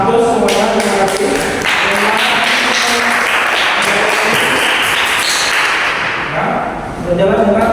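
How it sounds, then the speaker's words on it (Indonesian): A classroom of students applauds. The clapping is loud and dense, runs continuously for several seconds, and fades briefly near the end before picking up again. "saya berikan aplaus semuanya"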